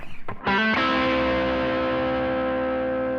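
An electric guitar with Seymour Duncan pickups, played on the neck pickup with distortion, rings out a loud sustained chord after a few short muted picks, then holds and slowly decays alone.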